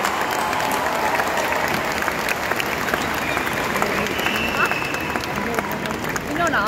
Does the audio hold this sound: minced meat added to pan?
no